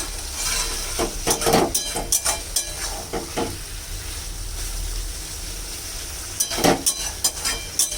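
A vegetable curry of pumpkin, papaya, potato and stalks is sautéed in a pan: a constant hiss of frying under repeated clinks and scrapes of a stirring spoon, busier at the start and near the end.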